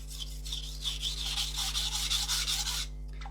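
A blade edge is rubbed lengthwise across a coarse sharpening stone in a series of close, rasping strokes that run together for about three seconds before stopping.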